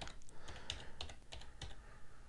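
Typing on a computer keyboard, a quick uneven run of soft, close key clicks in a quiet room.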